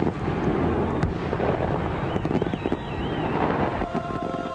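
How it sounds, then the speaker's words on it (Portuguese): Fireworks exploding, scattered cracks and bangs over rumbling wind noise, with a faint whistling streak midway, heard from some distance. "Fogos de artifício."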